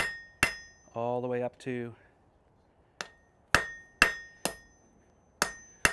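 Sharp, ringing hammer blows strike hot steel on an anvil in a smithy while a bevel is drawn out. They land singly and irregularly, with a brief spoken phrase between the early strikes.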